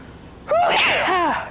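A single loud, close sneeze with a sharp intake of breath followed by a strong burst, heard alone.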